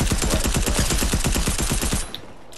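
Rapid automatic gunfire from a video game rattles in a dense, even burst for about two seconds, then cuts off abruptly, leaving quiet background.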